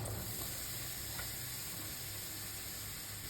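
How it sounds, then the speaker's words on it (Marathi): Chopped ridge gourd tipped into a pan of roasted masala, giving a steady, fairly loud sizzle and hiss of frying that runs evenly throughout with no speech. "आता यात आपण घालूया चिरलेली भाजी"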